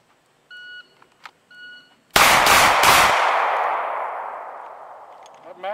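An FN 509 pistol fires at an outdoor range: a tight burst of three or four loud, sharp shots followed by a long decaying echo, preceded by faint electronic beeps.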